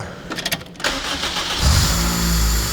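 A Honda Civic engine, freshly fitted with new cams, cranks with a few rapid starter pulses, catches and fires up, then settles into a loud, steady idle close by.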